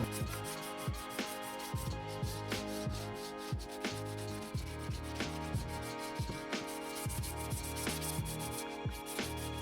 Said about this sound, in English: I went ahead and I finished the sanding.